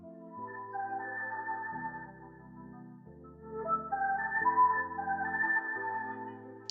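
Second flute sample in an Amapiano beat, a smooth sustained melodic line over a low pad, moderately loud and alone without voices, with phrases changing every couple of seconds.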